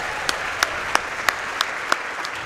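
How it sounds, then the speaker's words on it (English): An audience claps for the behind-the-scenes crew at a live speedrunning charity event, with steady applause filling the hall and a few sharper claps standing out at regular intervals. "Can we get some claps for the guys behind the scenes that got all this working?"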